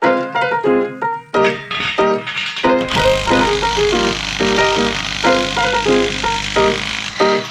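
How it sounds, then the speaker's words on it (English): An impact wrench with a 19 mm socket hammers off the wheel lug nuts on a Can-Am X3 UTV, loud close-up bursts of rapid rattling impacts in repeated stops and starts with a strong tonal whine. "I'm gonna use my impact and get those off real quick"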